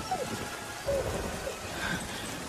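Rain and thunder in a film scene: a steady wash of rainfall with a low rumble of thunder underneath, faint and continuous throughout.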